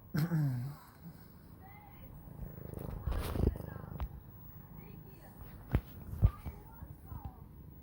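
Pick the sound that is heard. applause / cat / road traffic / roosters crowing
cat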